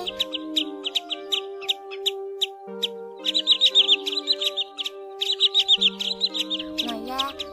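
Common greenshank calls, a recording of this shorebird, repeat as fast ringing chirps in bursts and clusters, loud and close, over steady tonal hum lines and a brief swoop near the end.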